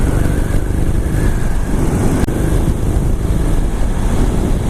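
A Harley-Davidson Iron 883 motorcycle engine rumbles loud and steady throughout, with heavy wind buffeting over it and no clear rise or fall in revs.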